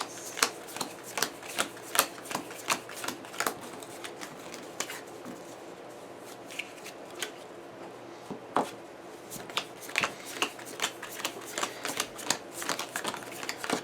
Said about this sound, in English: it should be shuffled really good